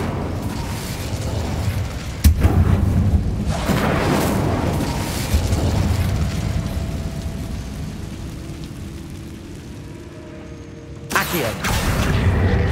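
A fire spell cast in a Harry Potter video game bursts out as a loud boom with a crackling whoosh, then a steady mechanical rumble that ends in a second sharp burst.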